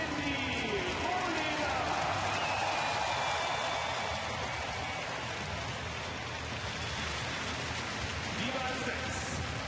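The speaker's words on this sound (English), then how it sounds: "Listen to the applause here." Stadium crowd applauding after a women's 100m hurdles race at an athletics meeting in Berlin, a steady, dense wash of distant clapping and cheering across the whole stretch, with a commentator talking over it.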